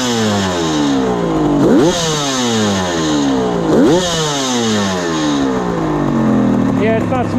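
A 1974 Kawasaki H1 Mach III 750cc two-stroke triple runs loud and close, idling with a raspy buzz and blipped twice in quick revving rises and falls.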